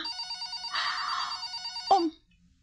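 An old-style telephone bell rings indoors in rapid bursts, fairly quiet, followed by a brief click as the ring cuts off and silence falls.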